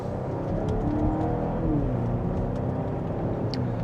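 A 2025 Volvo V90 accelerates in second gear from inside the cabin, its engine droning in a steady, rising hum that stays loud and continuous throughout.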